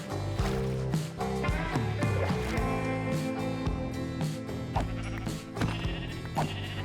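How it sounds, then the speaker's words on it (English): Sheep in the Minecraft video game bleat several times over loud, busy background music, the short wavering cries partly buried in the mix. "I had to kill some local sheep"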